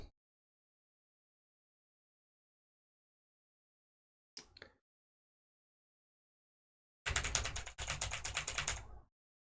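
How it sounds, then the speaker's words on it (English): Hard, rapid keystrokes hammered on a computer keyboard, a brief burst midway then a dense clattering run of about two seconds, close and fairly quiet against silence. "You can hear my keyboard."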